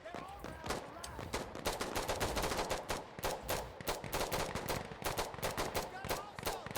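Rapid automatic gunfire with bursts of sharp shots and heavier booms in the Battlefield video game, dense and sustained throughout, with shouted voices faintly underneath.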